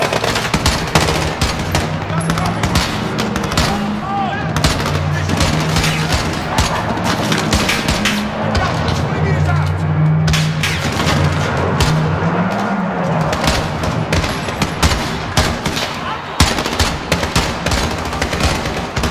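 Dense, continuous automatic gunfire with heavy booms from a grenade in Call of Duty: Modern Warfare II's US embassy mission, loud and close throughout the whole stretch.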